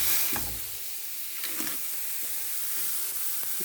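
Beef burger patty sizzling as it is pressed flat in a hot pan under a makeshift press, a steady close hiss with brief louder bursts of spitting fat.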